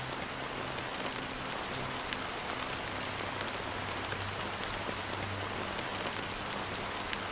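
Steady rain falling in the Honkai: Star Rail video game, a continuous soft hiss of drops on surfaces with faint low tonal music humming underneath and occasional sharper droplet ticks.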